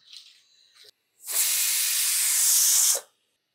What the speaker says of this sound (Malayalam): കഞ്ഞി ഇതാ വിസിൽ വരുന്നുണ്ട് കേട്ടോ.